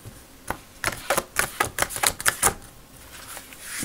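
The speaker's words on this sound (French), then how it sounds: "je vais tirer quelques cartes de l'oracle ici" Oracle cards being shuffled and drawn: a quick run of sharp papery flicks and riffling snaps, close and crisp, in an irregular burst lasting about two seconds before easing off, with no talking.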